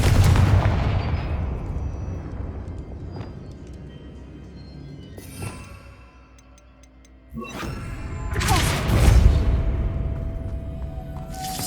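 Explosive spell blasts in a Hogwarts Legacy game, several booming bursts with crackling tails and quieter ticking between them, with no voices.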